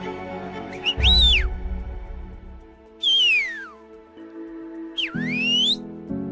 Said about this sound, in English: We turned the common whistle into functional audio content